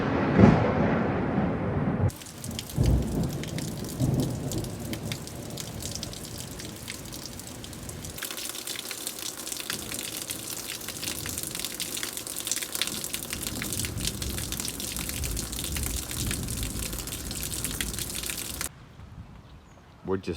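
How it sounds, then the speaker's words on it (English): A heavy downpour hammers down over the Charles River during a thunderstorm, a dense, steady roar of rain lasting most of the stretch, with a low rumble of thunder underneath. "Right after this downpour."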